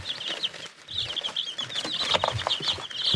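Week-old chicks in a brooder box under a heat lamp peep steadily in high, overlapping chirps, close and lively, with light scratching and shuffling beneath.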